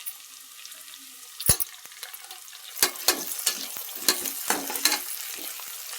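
Golden-brown onions and curry leaves sizzling in a pan for Coimbatore-style chicken biryani, a steady close crackle with several loud scraping spoon strokes as the mix is stirred, no talking.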